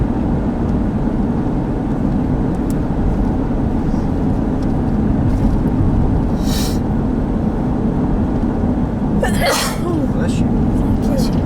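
A single sharp sneeze bursts out near the end inside a car during a storm chase, over steady road and engine rumble, with people talking.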